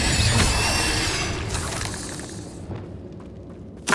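The Incendio fire spell in Hogwarts Legacy bursts out as a loud, dense roaring whoosh of flame that gradually fades, with a sharp hit right at the end and no talking.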